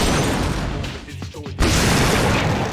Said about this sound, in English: Might as well explode it.